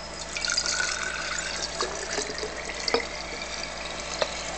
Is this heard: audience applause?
no